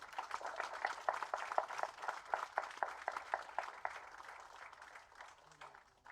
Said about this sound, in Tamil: ஒரு பெரிய கரகோஷம் கொடுத்துடலாமா?